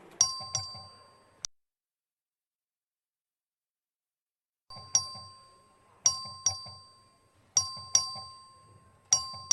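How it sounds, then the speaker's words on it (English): A bright electronic voting bell in a legislature chimes repeatedly in pairs of dings, pausing for a few seconds before resuming at a steady rhythm in a quiet room. "The clerk will ring the bell."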